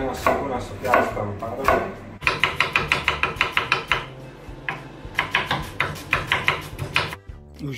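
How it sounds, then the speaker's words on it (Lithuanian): An onion is chopped with a knife on a board: a few slower cuts, then a rapid, even run of sharp knocks, close and distinct. "Vieną svogūną supjaustom"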